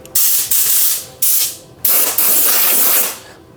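Loud, harsh hissing blasts from an Auxito A301 portable tire inflator, running in several bursts with brief pauses between them, close up and with no voices.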